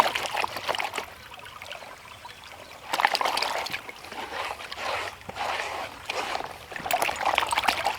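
Sand and water swirled and sloshed in a gold pan while prospecting in packed sand, with irregular close-up splashing bursts and trickling that rise and fall in waves.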